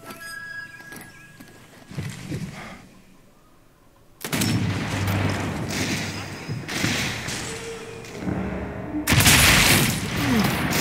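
Gunfire and heavy booming blasts in the video game Sniper Elite 4, mission set in Regilino Via, loud broadband bursts with sustained rumbling noise; a voice talks faintly early on.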